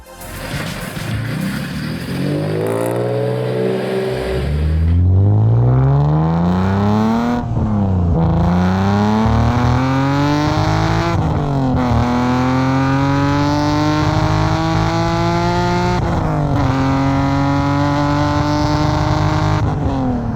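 A BMW E46 M3 with an S54 engine and a Supersprint exhaust accelerates hard through several gears. The rising engine note climbs and drops at each shift, loud and close, with no talk.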